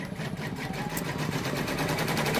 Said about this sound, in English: Now it's stitching the placement stitch for the